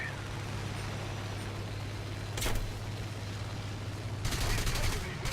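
Aircraft gunfire in the War Thunder video game during German air combat, two short rattling bursts over a constant engine drone, the second burst longer than the first.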